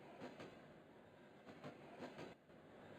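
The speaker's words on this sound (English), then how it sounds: "Sounds like a train." A train rolls along the rails in Minecraft with the Railsound resource pack, giving a steady rumble with rhythmic clickety-clack wheel beats. It is fairly faint and heard alone, with no talk.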